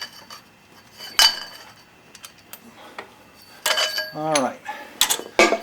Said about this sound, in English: with a 30mm socket and a cheater bar, we'll loosen this nut up.